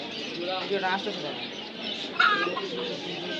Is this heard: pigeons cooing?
yes